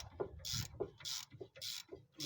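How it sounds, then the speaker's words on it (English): A hand ratchet works loose a bolt on a Ford Focus front suspension: quick repeated bursts of clicking pawl, about five strokes with short gaps, close and fairly quiet, no voices. "I haven't had a lot of chances to use my ratchet,"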